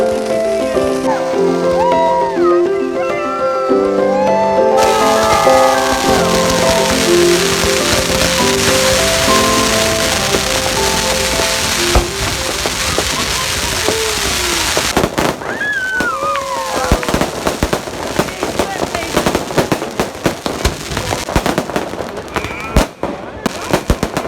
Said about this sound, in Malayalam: ഫയർ വർക്സ് ഒക്കെ കഴിഞ്ഞു, ന്യൂ ഇയർ ആയി.